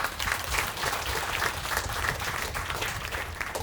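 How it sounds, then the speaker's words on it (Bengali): An audience at a book event claps warmly for the publisher Natasha, dense steady applause throughout with no letup. "আমি চাই নাতাশার জন্য সবাই একটা বড় করে হাততালি দিই"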